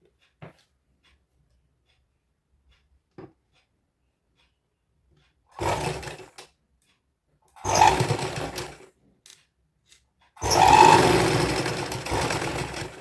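A sewing machine stitches an invisible zipper on a small girl's frock in short bursts: a few clicks, then three runs of whirring motor of a second or two each, loud and close, with quiet gaps between.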